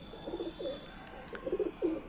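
Madras pigeons coo in short soft bursts, a few low rolling calls in two clusters, fairly close against a quiet background with no speech.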